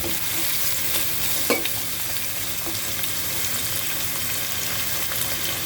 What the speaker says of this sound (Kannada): Two big onions. Let it fry.